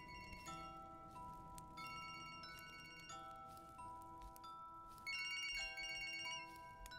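A phone rings in the Siren Head horror video game with repeated electronic ringtone chimes in melodic bursts, steady and fairly faint, rising slightly near the end.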